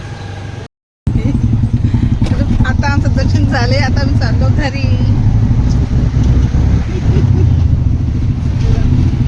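An auto rickshaw engine chugs loudly and steadily amid road traffic, with people talking over the running motor.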